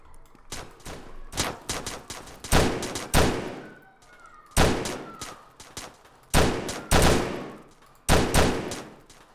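Gunfire in the video game Stick Em Up during a bank robbery, loud bursts of shots coming in several clusters with short pauses between them, close and sharp, with no talking over them.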